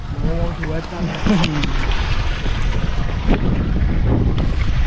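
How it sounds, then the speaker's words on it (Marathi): Gusty wind buffets the microphone with a constant rumble on top of a tall water tank, and a few short voiced sounds appear early on. "वारा आहे थोडं"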